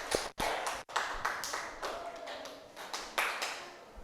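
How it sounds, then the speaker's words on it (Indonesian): A classroom of students claps for a classmate: a short, uneven patter of hand claps close by and fairly faint, several sharp strikes standing out among looser taps. "Tepuk tangan dulu buat Farhan."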